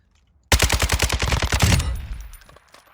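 RPK light machine gun in Warzone 2 opens fire after a brief silence, a loud rapid burst of about a dozen sharp shots in even rhythm, then stops and its echo and tail fade away.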